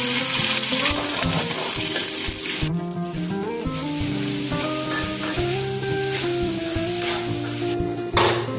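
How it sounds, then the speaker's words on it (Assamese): Vegetable bhaji frying in a pan, a steady sizzle that is strongest early on and returns near the end, partly covered by melodic background music. "এতিয়া ভাজি বনাম বলো"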